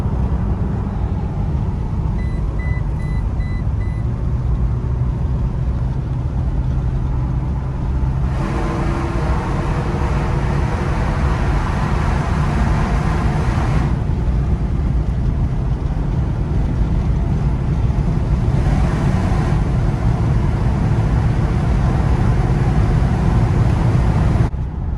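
A car driving along a road, a loud, steady rumble of engine and road noise with rushing wind that shifts in tone a few times as it keeps going, with no talking.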